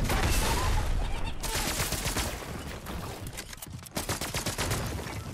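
Dense bursts of rapid gunfire in the video game Fortnite Chapter 5, loud and sustained, with volleys of shots crackling close by and no talking over them.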